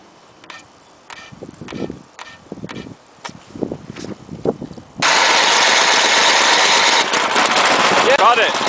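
Snowblower engine cold starting in a snow storm: several sputtering pull-start attempts and popping coughs, then the engine catches into a loud, steady close roar; a voice speaks between the early pulls.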